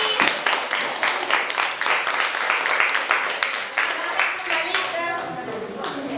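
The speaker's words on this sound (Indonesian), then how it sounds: "Kasih aplaus untuk kelompok ini." A classroom group in a teacher-training session breaks into applause; brisk, close clapping runs throughout, with voices mixed in and a slight tapering toward the end.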